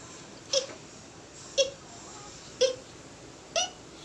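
A voice makes four short, evenly spaced hiccup-like "ih" sounds, imitating a hiccup to teach the short i letter sound in a children's reading lesson.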